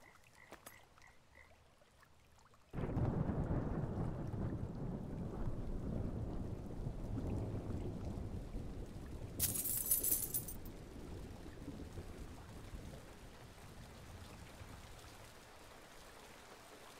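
A thunderstorm with heavy rain in the Kynseed farming game: quiet at first, then a sudden downpour bursts into a steady loud hiss of rain with rolling thunder, a brief bright crack midway, and frog-like croaks.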